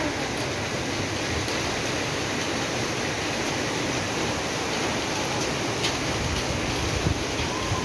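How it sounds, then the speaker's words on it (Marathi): Rain falls steadily in a dense, even hiss without pauses or voices, fairly loud and broad. "असा पाऊस पडताना मी हा कॅमेऱ्यामध्ये शूट केलेला आहे"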